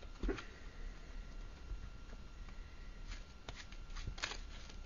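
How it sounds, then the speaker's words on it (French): A deck of playing cards being shuffled by hand before a card trick, giving soft riffling and flicking bursts over a faint steady hiss, close and quiet. "on a besoin d'un paquet de cartes qu'on va commencer par mélanger"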